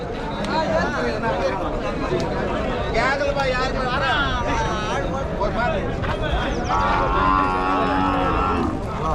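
Cattle moo and low repeatedly amid a busy crowd of people chattering and calling, a loud, crowded outdoor livestock market din at Vaniyambadi.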